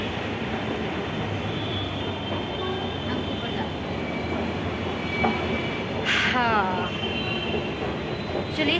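A Delhi metro train rumbles steadily close by, a continuous loud drone of rolling wheels, broken late on by a brief metallic squeal.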